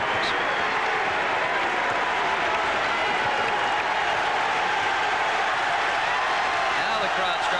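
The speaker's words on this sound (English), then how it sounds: "Now the crowd starts to come to life just a bit." Basketball arena crowd in a Maryland–Duke college game roars and applauds continuously, a dense, loud wash of cheering and clapping that holds steady throughout with no voices standing out.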